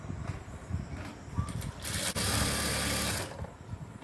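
A sewing machine stitches a blouse, its steady whirring rising into a louder continuous run in the middle before easing back, close by with no talk.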